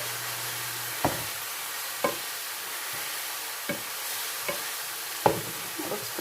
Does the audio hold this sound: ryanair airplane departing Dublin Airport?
no